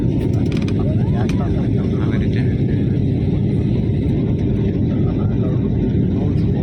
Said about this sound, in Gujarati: તેના પર આપણું વિમાન ઉડી રહ્યું છે